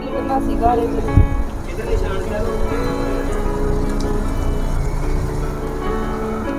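Steady rain patters on surfaces in a continuous even wash, with people talking over it.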